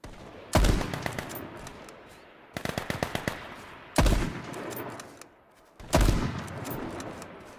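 AK rifle fire in the game H1Z1 comes in four loud, rapid automatic bursts separated by short gaps, each with a sharp onset and a fading tail.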